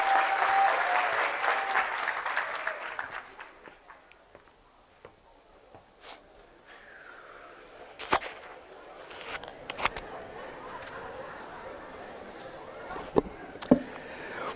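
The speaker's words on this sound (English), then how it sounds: "Let's give our SGA leadership a round of applause." A crowd at a university State of the University Address claps in a dense burst of applause that fades out after a few seconds, followed by scattered knocks and rustles in a quiet hall.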